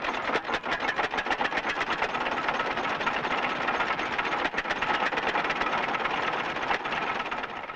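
A rapid, steady chugging rhythm of an old International Harvester farm engine running continuously at close range, loud and unbroken throughout.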